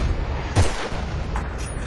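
A couple of sharp gunshot bursts in Battlefield: Bad Company 2, one strong and one fainter, over a steady low rumble of game ambience.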